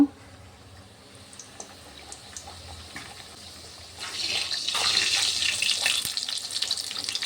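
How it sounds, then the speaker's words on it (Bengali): Lachha paratha dropped into hot white oil in a wok sets off a sudden bright, hissing sizzle after a few seconds of quiet kitchen noise. The frying stays loud and close to the end. "কড়াইয়ে দিয়ে দিয়েছি সাদা তেল। তেলটা গরম হয়ে গিয়েছে। এর লাচ্চা পরোটাগুলো দিয়ে দেবো।"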